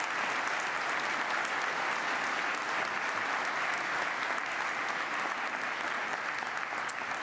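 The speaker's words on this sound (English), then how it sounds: "Please give our Supreme Court a hand." Sustained applause from a large audience in a chamber at a State of the State address, honoring the state Supreme Court justices, dense and even clapping throughout.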